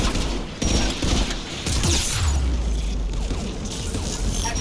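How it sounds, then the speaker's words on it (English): Anti-aircraft guns in the video game Mass Effect 3 fire in dense, rapid bursts, loud and continuous, with deep booms and rumbling blasts underneath and no talk. "Anti-aircraft guns are up ahead"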